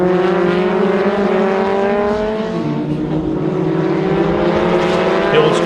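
Formula Vee race cars howl past on a track in East London, engines loud and close, blending into one layered drone. A slight pitch dip midway suggests the pack passing, with commentary faintly beneath.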